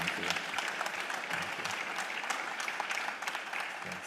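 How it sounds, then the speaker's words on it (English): Sustained applause from a conference audience for Ghana's Minister of Foreign Affairs, steady dense clapping heard from a distance at moderate level. "Guys, he deserves an applause for this"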